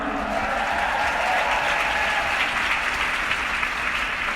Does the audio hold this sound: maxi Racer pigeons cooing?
no